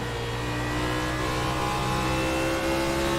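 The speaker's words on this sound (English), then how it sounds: "listen to the RPMs on this car as he works through this lap traffic" Xfinity Series race car at Phoenix, heard on board in lap traffic: a loud, sustained, high-revving engine drone with steady harmonic whine, close and continuous without voices.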